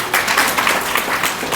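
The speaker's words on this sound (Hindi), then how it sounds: "तो प्रभु जी के लिए ज़ोरदार तालियां।" Applause from an audience at an ISKCON Akshaya Tritiya talk, a steady broadband patter of hands lasting under two seconds, fairly close and without a clear break.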